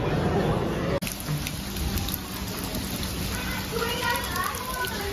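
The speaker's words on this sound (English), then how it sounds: "it's raining a little too hard" Rain falls steadily and fairly hard at Disney World, a dense hiss of drops on surfaces, with people's voices faintly mixed in.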